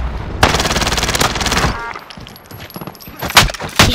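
Rapid automatic gunfire rattles in a Call of Duty: Modern Warfare match, a loud sustained burst up front followed by scattered, sharper single shots and impacts, with no talk.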